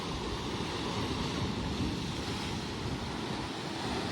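Sea surf at Casolares in Bolinao, Pangasinan rushes in a dense continuous wash, mixed with gusty wind buffeting the microphone, with no voices.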